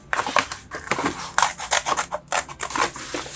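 Scissors snip through a folded paper grocery bag during a children's costume craft, a close series of crisp, crunchy cuts in quick uneven bursts with brief pauses between them.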